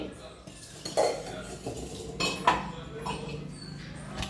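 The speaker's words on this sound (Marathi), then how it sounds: "हे बघा, कढई टाकली." A metal kadhai (wok) is set down on a kitchen stove, giving a couple of close, sharp metallic clanks and knocks, with faint handling clinks in between and no talking.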